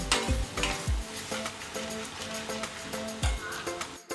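Whole garam masala spices (cinnamon, bay leaf, cloves, black pepper) sizzle steadily in hot oil in a pan for mutton kheema, while a spoon stirs and scrapes through them with several close, sharp knocks; nobody speaks.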